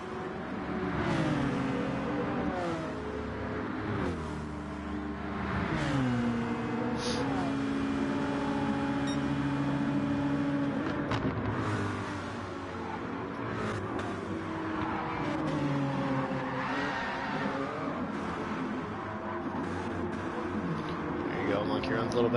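Race car engines in a racing game at Watkins Glen, including a pushed Citroen, revving and shifting gears in rising and falling whines through repeated accelerations, loud and continuous under steady commentary.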